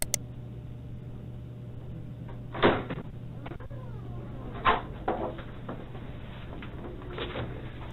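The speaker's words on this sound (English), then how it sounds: "he will hear the sound of the door being opened by a detective" A door is opened by a detective in a quiet interrogation room, heard as a couple of faint clicks and knocks of the handle and latch over a low, steady hum.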